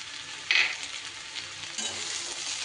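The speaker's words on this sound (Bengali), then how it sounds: "এদিকে পেঁয়াজ কলিটাও কিন্তু আমার বেশ ভাজা ভাজা হয়ে গেছে" Onion stalks that have cooked down until the water is gone sizzle steadily in a pan. Two louder bursts of frying come near the start and again partway through, with no talking.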